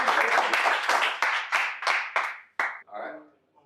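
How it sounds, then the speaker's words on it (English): Applause from an audience at a developer meetup for an incoming presenter, a loud burst of clapping that thins into separate claps, then fades out as a voice begins. "Round of applause for Matt."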